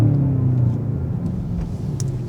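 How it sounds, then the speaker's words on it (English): A 2024 BMW XM engine downshifting under hard acceleration on a straight road, heard as a loud, steady low rumble with a rising drone that holds for a couple of seconds. "I love the downshift. It just sounds incredible."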